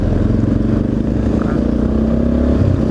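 Motorcycle engine running close and loud, a steady throbbing rumble with slight variation in revs and some rattling clatter, continuous throughout with no talk.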